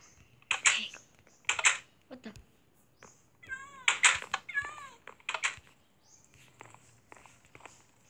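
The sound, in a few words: cat meowing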